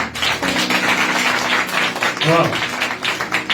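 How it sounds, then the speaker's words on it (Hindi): Church gathering members clap their hands in a brisk, steady patter while a voice carries on over the top, the claps close and fairly loud. "ताली की बजाते हुए।"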